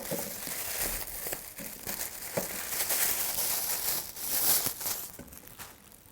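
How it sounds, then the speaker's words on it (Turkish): A plastic liner bag is pulled out from the edges of a Potette Plus portable potty, giving a steady run of close crinkling and rustling plastic for several seconds with no talk. "Poşeti yine kenarlardan çekip çıkartabilirsiniz."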